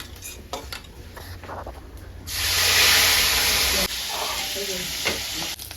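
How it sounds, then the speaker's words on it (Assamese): Fish frying in hot oil sizzles loudly as more pieces go into the pan, a bright hissing burst that settles into a steady crackle, with soft clinks of cookware earlier. "মাছকেইটা কাঢ়ি লওঁ, ভজা হৈ গৈছে। আৰু কেইটামান দি লৈছোঁ দেই তেলত।"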